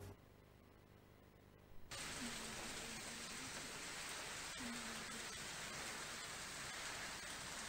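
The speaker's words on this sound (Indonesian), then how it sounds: "Hujan deras diikuti angin kencang disertai puting beliung sempat terekam warga Selasa petang di wilayah Padalarang dan Batu Jajar" Heavy rain with strong wind during a tornado storm on a Tuesday evening in Padalarang and Batu Jajar, a steady loud roaring wash after a quieter opening, with no talk.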